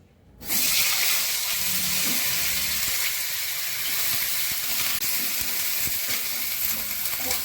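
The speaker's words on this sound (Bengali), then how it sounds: "এবার আমি ফুলকপিগুলো ভাজছি" Cauliflower florets fry in a pan of hot mustard oil, a steady, close hiss of sizzling that starts abruptly and runs on unbroken with no voices.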